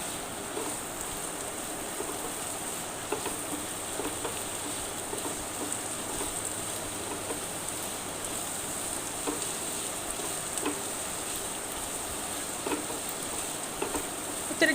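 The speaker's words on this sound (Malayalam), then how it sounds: "നന്നായിട്ട് വഴറ്റിയെടുക്കുക" Sliced onion, garlic and green chilies sauté with a pinch of salt in a pan, giving a steady, soft sizzle with occasional faint stirring scrapes, close and quiet.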